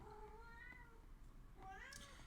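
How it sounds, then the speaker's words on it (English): A house cat close by gives two short, faint meows separated by a brief pause. "I have a cat that is right under me."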